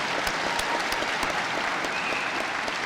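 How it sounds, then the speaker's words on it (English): An audience at a technical college graduation ceremony applauds in a steady, dense wash of clapping, moderately distant and continuous throughout. "Give him a round of applause."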